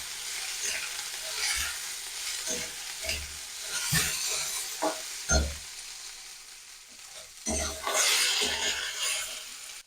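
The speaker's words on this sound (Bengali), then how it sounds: "আলুটা দিয়ে ভেজে নেবো।" Potatoes frying with onions in a hot pan for a fried egg-greens dish: a steady oily sizzle throughout, broken by irregular scraping stirs and clatters, close and fairly loud.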